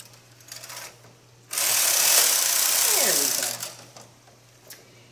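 A knitting machine carriage is pushed across a row of a sweater sleeve, giving a loud, rushing mechanical clatter that lasts about two seconds after a quiet start and then fades out.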